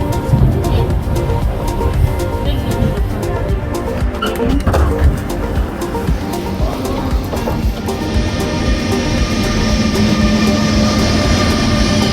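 A train at Lindau station, Germany, rumbles loudly and steadily along the rails, with clattering and metallic squeals over a constant low roar.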